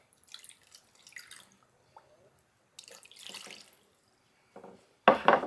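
Water poured from a cup over steaks in a container for a marinade: scattered trickles and drips, then a louder splashing pour near the end, with no talking.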